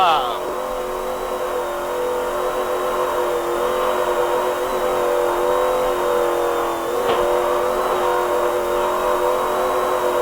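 Offshore racing powerboat engines roar steadily and loudly at speed during a 1994 offshore grand prix, a sustained near drone with people talking and shouting over it.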